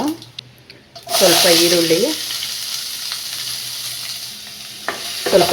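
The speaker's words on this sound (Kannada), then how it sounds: "ಇದೇ ಬಾಣಲಿಗೆ ಸ್ವಲ್ಪ 1-2 ಸ್ಪೂನ್ ಎಣ್ಣೆ ಹಾಕ್ಕೊಂಡು ಸಾಸಿವೆ" Mustard seeds crackle and sizzle in one to two spoons of hot oil in a frying pan, a close, loud, steady hiss that starts abruptly and carries on; a brief tonal sound appears near the start and again at the end.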